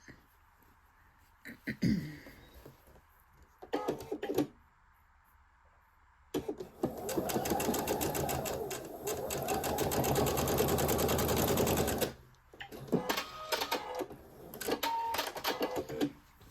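A sewing machine stitches quilt pieces together for the Stronger Together quilt in a long, steady run of rapid needle strokes, with shorter bursts and pauses at the start and end.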